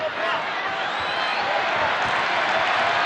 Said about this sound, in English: This crowd is getting restless.